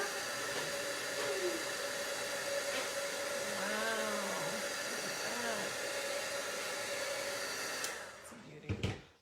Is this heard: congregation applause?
no